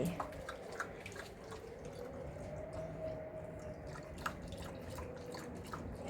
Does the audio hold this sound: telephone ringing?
no